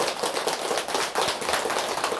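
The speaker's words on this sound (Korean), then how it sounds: "박수 한번 주세요." An audience claps at a Buddhist monk's lecture, with dense, steady applause of many hands held at an even level throughout.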